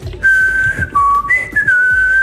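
A person whistles a simple melody, clear pure notes stepping up and down, close to the microphone with faint background noise.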